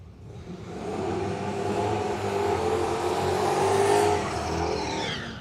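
Holden Torana drag car at Willowbank Raceway launching and accelerating down the strip, a steady, loud engine roar that builds and holds as the car pulls away, with crowd and track ambience beneath.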